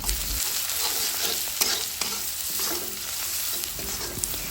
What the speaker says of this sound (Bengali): এগুলো একটু নেড়ে চেড়ে ভালোভাবে মিশিয়ে নিচ্ছি